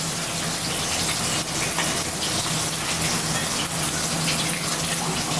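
Cooking oil pours steadily into a wok in a home kitchen, a continuous close gushing, splashing flow lasting several seconds without talk.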